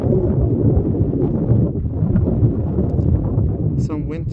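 Strong wind gusting near an erupting lava field in Iceland, a loud, steady buffeting roar across the microphone with low rumbling underneath and faint voice-like sounds near the end.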